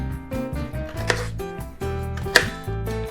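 A knife chops potatoes on a cutting board with steady thuds at close range, two sharper knocks standing out, under a humming background tone.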